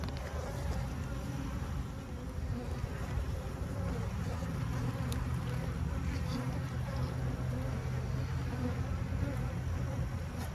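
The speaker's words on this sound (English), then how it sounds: "This is not a happy hive." Honeybees in a struggling hive, a dense, steady buzzing drone that holds evenly from start to finish, close and moderately loud, with faint background noise and no clear talk.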